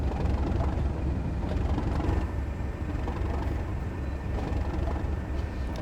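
A steady, droning train engine in Train Sim World 2 on the Tees Valley Line with an uneven, surging rev, as if hunting, continuous low rumble with faint mechanical rattling, no voices.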